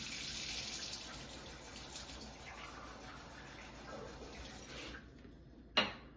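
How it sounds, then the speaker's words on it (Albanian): Ordinary tap water pours from a faucet in a quiet, steady stream for about five seconds, then cuts off, followed by a single sharp clunk. "do të marr ca ujë nga çezma, ujë normal të çezmës"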